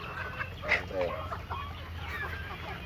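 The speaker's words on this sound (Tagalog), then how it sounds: "Ay, sa kabila pato" Ducks on an outing give faint quacking calls amid steady outdoor background noise, with people talking nearby.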